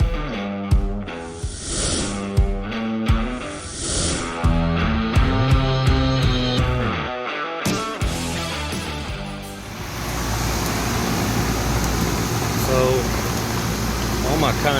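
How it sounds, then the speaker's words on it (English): A blower in a Carrier package HVAC unit that is not cooling gives a steady, broad rushing whoosh that fills the second half, following earlier tonal, talk-like sounds with sharp knocks. "Sounds like my blower's running"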